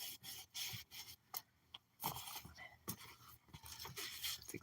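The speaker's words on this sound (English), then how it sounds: "sometimes I'll go over them with what they call magic eraser thing, which is like a fine sandpaper" A melamine magic eraser, like fine sandpaper, scrubs over shoes being cleaned for resale, in quick, close, rasping strokes with brief pauses, faint overall and without talk.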